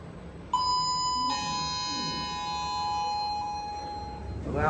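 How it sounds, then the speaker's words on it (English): The Schindler 2600 MRL traction service lift at Grand Central in Toowoomba sounds a loud chime, two clear electronic tones ringing out one after the other and fading slowly over a few seconds, with faint voices underneath. "A loud chime."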